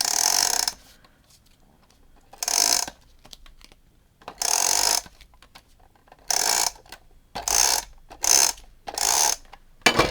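Several short bursts of a tape runner clicking and rasping as it lays adhesive onto violet embossed cardstock, each pass separated by quiet pauses, close and crisp with no talking.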